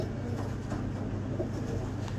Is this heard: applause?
no